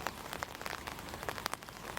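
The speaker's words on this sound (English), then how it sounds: "heavy rain fell on already sodden ground" Heavy rain falling on already sodden ground during a weather event in the Tasman region, a dense, faint patter of drops with scattered sharper splashes, brief and continuous.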